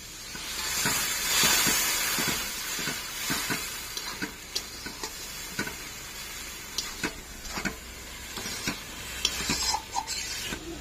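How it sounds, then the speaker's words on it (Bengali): Spice masala for a potol chingri curry, with a little water just added, sizzles and hisses steadily in a pan while a spoon scrapes and stirs in repeated short strokes, close and fairly loud. "সামান্য একটু মশলা কষার জন্য একটু জল দিয়ে দিচ্ছি।"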